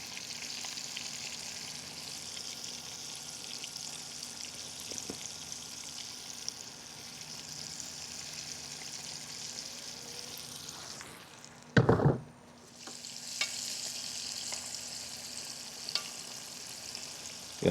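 Chicken frying in hot oil outdoors, a steady loud bubbling sizzle that dips briefly as a piece drops in, then surges back to a fierce crackle.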